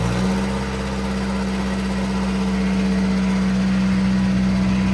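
An old Isuzu Faster truck's diesel engine runs after starting, a loud steady near idle drone with a low rhythmic hum and no talking.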